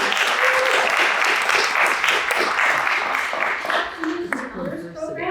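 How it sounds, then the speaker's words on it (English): An audience claps for a professor at a concert of Afro-Brazilian music, a dense, loud wash of applause that holds steady and then thins out toward the end, with voices mixed in. "Can I please clap to Professor"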